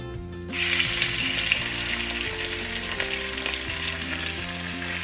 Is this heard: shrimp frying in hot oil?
yes